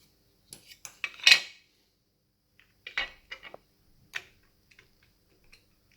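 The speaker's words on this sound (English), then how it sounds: "now I'll pop the other half of this mag on" Plastic clicks and snaps as the second half of a drum magazine for a 360fps Well M401 airsoft gun is fitted on, a few scattered close taps and one sharper snap, with quiet gaps between.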